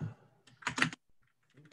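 Typing on a computer keyboard comes in short, close bursts of clustered key clicks, separated by quiet gaps.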